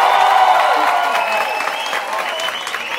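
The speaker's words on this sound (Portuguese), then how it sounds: "Aplausos, por favor." Audience applause fills a stand-up comedy show in Brazil, a dense, loud burst of clapping from the crowd that gradually thins over three seconds, with faint voices and cheers mixed in.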